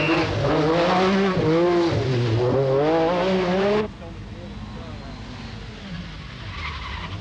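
An MG Metro 6R4 four-wheel-drive rally car roars hard through tight gravel corners at a 1985 Cumbria rally, its engine rising and falling loudly before cutting abruptly to a distant gravelly rush, with commentary talking over it.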